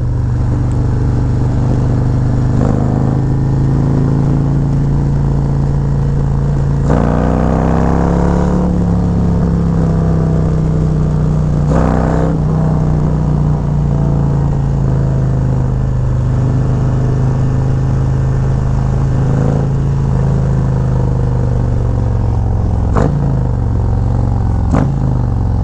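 A Legend AXEO motorhome with its front-end suspension drives through heavy traffic toward a bridge, giving a steady, loud engine and road drone with occasional passing swells and clatters.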